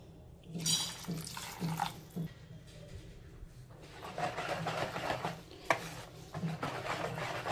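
Brownie batter being stirred after water is added, wet squelching and scraping strokes in an uneven rhythm, close and moderately loud, with occasional clinks of the spoon against the bowl.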